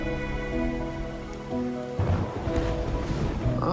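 Steady rain falls in a video game scene on a rainy night, a dense patter that swells louder partway through, with a background musical tone early on and no speech.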